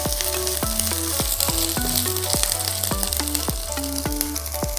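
Finely chopped garlic and ginger frying in a pan over a medium flame, a constant close sizzle under a repeating series of descending musical tones, with no talking.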